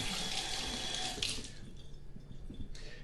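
Tap water runs steadily into a sink as hands are rinsed, a soft continuous splashing that briefly changes tone partway through, with no talk.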